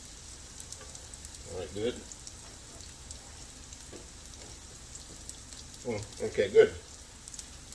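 Onions going into a hot pan for a shrimp salad set off bursts of crackling sizzle, a short one early and a louder cluster near the end, with a person speaking briefly in between.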